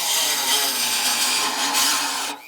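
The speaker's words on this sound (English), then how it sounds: "just going to take the Dremel, I think, work my way around that nice and slow" A Dremel rotary tool cuts slowly along an etched line in a Triumph TR4 floor panel, giving a loud, high, continuous whine with slight wavering that drops away near the end.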